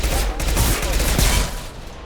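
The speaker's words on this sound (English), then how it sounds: "His mechs shoot without question." Sustained, loud mech gunfire in a Mass Effect 2 battle: dense overlapping shots in a continuous fusillade lasting about two seconds, easing slightly at the end.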